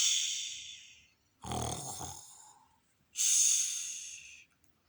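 A voice imitates a sleeping bear snoring during a read-aloud children's story, with two long, loud breathy snores and a rougher snort between them, all heard clearly with no other sound.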